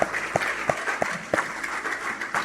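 A church congregation gives applause for the Lord, a dense crowd clapping under the room's sound, with regularly spaced louder thumps cutting through about three times per second.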